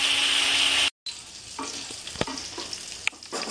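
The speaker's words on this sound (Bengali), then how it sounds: "ফুলকপিটা ভাজতে আমার অনেক টাইম লাগবে, আমি সুন্দর করে লাল করে ভেজে নেবো" Cauliflower fries in a pan, Bengali-style, with a loud bright sizzle that cuts off briefly. It comes back quieter with scattered spatula taps and scrapes against the pan, up close.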